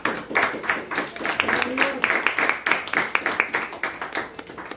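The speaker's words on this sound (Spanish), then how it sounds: "Den una ofrenda de palmas al Señor" A church congregation claps hands in a steady rhythmic beat as an offering to the Lord, many close hands striking together repeatedly with a faint voice underneath.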